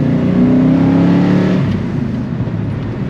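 A 1972 Ford XY GT car engine revs loudly and close, climbing slightly in pitch before easing into a steady, rumbling drone.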